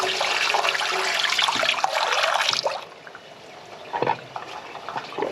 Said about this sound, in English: We'll do some flushing the toilets and all the usual stuff